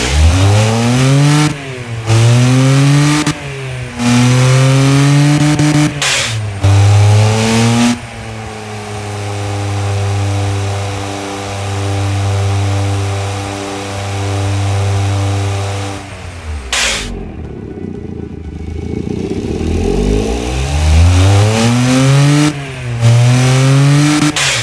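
A custom-built engine running at 16 psi of boost revs loudly in repeated sharp throttle blips, then holds a steady, droning idle, then rises again in several more close, powerful revs.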